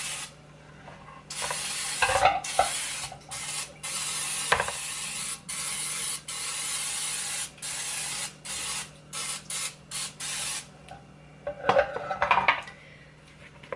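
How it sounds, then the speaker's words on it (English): Cooking spray is sprayed into a baking pan for pumpkin bars in a run of about a dozen short, sharp hissing bursts of varying length, close by, with light clinks of the pan in between and no talking. "I'm just gonna go ahead and get it all sprayed up with my cooking oil, cooking spray."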